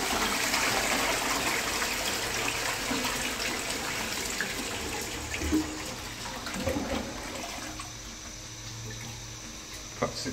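A pub toilet flushes with a loud gushing rush of water that tapers into a weak trickle, with almost no cistern refill following, heard close in a tiled room.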